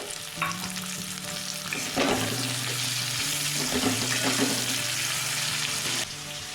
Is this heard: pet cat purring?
no